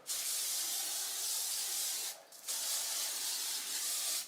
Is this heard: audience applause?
no